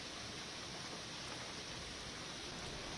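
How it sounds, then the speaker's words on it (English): Heavy rain pours over Delhi as a steady, dense hiss that stays even and unbroken for the full few seconds, with no voices. "light to heavy rain slashing parts of the capital city"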